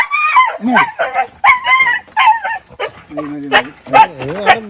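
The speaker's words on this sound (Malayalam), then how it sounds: "നാടൻ പട്ടിയാണല്ലോ" A native Indian street dog gives a run of high yips and whiny, whimpering calls close by, mixed with voices.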